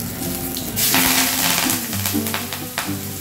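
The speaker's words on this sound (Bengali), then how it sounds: "এক ছড়া কারি পাতা দিয়ে দিচ্ছি।" Curry leaves dropped into hot oil in a Bengali kitchen while cooking katla fish, giving a loud burst of crackling sizzle that settles into steady frying hiss, with a few clatters from stirring.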